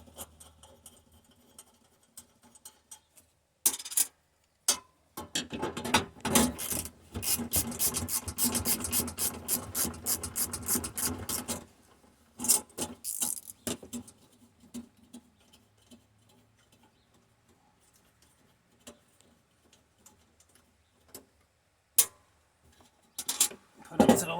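A 1/4 inch drive ratchet removes two 10 mm nuts from the battery plate of a 2006 Prius gen 2 hybrid. Rapid close clicking runs in a dense burst, then scattered ticks and short rattles follow.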